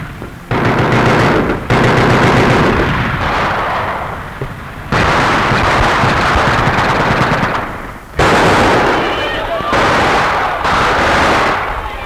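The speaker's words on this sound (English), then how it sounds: "A tank and machine gun skirmish was waged at the foot of the Eiffel Tower." Machine guns fire during the World War II liberation of Paris, in the tank and machine gun fighting at the foot of the Eiffel Tower: long, loud, rattling bursts with brief pauses between, dense and close.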